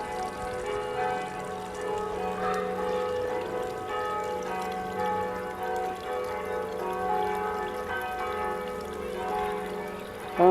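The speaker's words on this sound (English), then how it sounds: "It must be close to a church because I hear the church bells." Church bells ring steadily near a street in Holland, a sustained overlapping peal of tolling tones that continues evenly throughout without speech.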